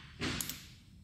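A Toyota EGR valve gives a single quiet click-like burst close by, lasting a fraction of a second, against faint background noise.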